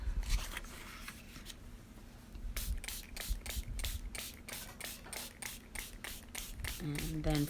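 Repeated quick sprays from a spray bottle onto coffee-dyed paper cards, about a dozen short hissing bursts in a steady rhythm, close and fairly quiet.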